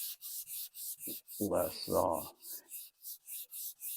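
Dry sanding on a 1966 Mustang body gives rhythmic back-and-forth rasping strokes, about a dozen evenly spaced, close, while someone speaks briefly partway through.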